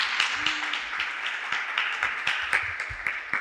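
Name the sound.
audience applause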